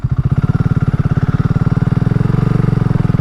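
A 2022 BSA Gold Star motorcycle ridden at slow speed, its single-cylinder engine thumping in a loud, close, rapid even pulse that quickens slightly toward the end, with no voices.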